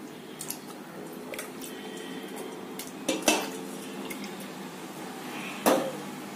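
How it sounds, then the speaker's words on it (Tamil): Pearl millet stirred in hot water with a wooden spoon in a metal pot: soft sloshing and scraping with a few sharp knocks of the spoon against the pot, close by, and no talking. "நல்லா இந்த மர கரண்டியை வச்சு நல்லா கலக்கணுங்க."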